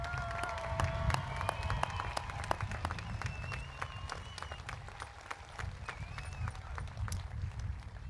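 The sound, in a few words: applause for graduating high school class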